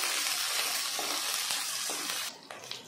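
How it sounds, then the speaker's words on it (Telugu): Chopped garlic, onion and green chilies frying in a pan, a steady loud sizzle with faint stirring scrapes, easing slightly near the end. "కొద్దిగా వెల్లుల్లి, ఉల్లిపాయ ముక్కలు, మీరు ఎంతైతే కారం తినగలుగుతారో అన్ని పచ్చిమిర్చి వేసుకొని ఇవన్నీ బాగా వేపుకోవాలి"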